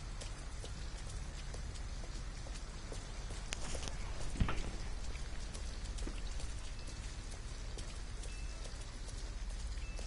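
Steady rain falls in the video game Detroit: Become Human, a constant close hiss of drops on surfaces with a few sharper spatters, and no voices.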